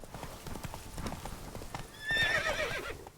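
Roach, the horse in The Witcher 3, gallops with rapid close clip-clop hoofbeats and then lets out a loud, shrill whinny near the end.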